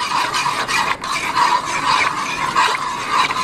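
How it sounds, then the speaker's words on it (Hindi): Citric acid being stirred into a batch of red sharbat, a steady scraping and swirling of a spoon against the pot that runs continuously and close with no talk. "सेट्रिक एसिड मिला के इसको अच्छी तरह आपने मिक्स कर लेना"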